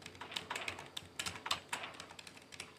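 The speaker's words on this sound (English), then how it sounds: "Hold on, I'm typing." Typing on a computer keyboard during a Roblox Doors game session, a rapid irregular clatter of close, crisp key clicks with no voices.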